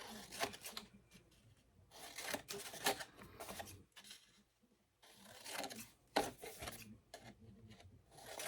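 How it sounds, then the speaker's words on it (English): Repeated crisp snipping and rasping paper sounds in short bursts, close and fairly loud, with brief pauses between cuts and no talking. "Scissors."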